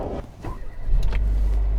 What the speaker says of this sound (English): I think it's time for a test drive.